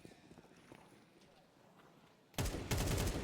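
Counter-Strike gunfire at an IEM Cologne Major match, Spirit versus NAVI: a low murmur of game sound, then loud dense bursts of rapid rifle fire erupt near the end, layered with heavy clatter.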